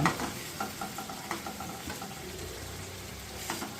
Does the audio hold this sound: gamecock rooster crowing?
no